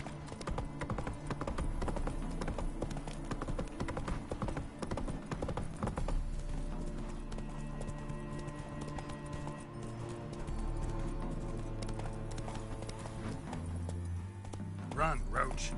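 Horse galloping in a PS4 video game, a steady, rhythmic clip-clop of hooves at close range running under game music and other sounds throughout.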